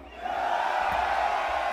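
A large audience at the 2019 Grand BeatBox Battle solo final in Poland roars and cheers, a sustained loud wall of crowd noise that swells after a brief quieter start and holds steady throughout.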